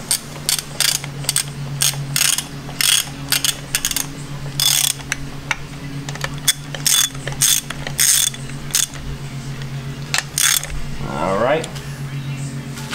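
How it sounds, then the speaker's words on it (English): Ratchet clicking in bursts while tightening bearing cap bolts on an LS engine block, close and crisp over a steady low hum, with brief pauses between runs. "So what we wanna do is we're gonna tighten these all the way down."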